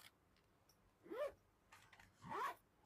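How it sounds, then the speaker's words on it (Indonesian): A bag zipper is pulled open and then closed, giving two short, quiet rasping strokes about a second apart against a near-silent background. "kalau ada yang kesulitan membuka dan menutup resletingnya ya nih di sini"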